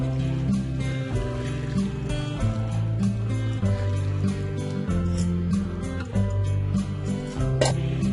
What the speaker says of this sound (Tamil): இப்போ நம்ம இதை வந்து வடிகட்டிடலாம்.